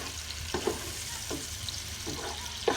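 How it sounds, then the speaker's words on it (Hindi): Ginger garlic paste fries with onions in a pan, a steady moderate sizzle broken by a few soft scrapes of stirring spaced about a second apart, with no voices. "अदरक लहसुन का पेस्ट हमने डाल दिया। अब इसको थोड़ा सा सॉटे करेंगे,"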